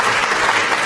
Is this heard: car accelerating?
no